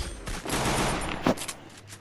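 Rapid gunfire bursts in the Garena Free Fire mobile game, a clash squad match on the Purgatory map: dense crackling shots and a sharp crack near the end, loud and close with no speech over them.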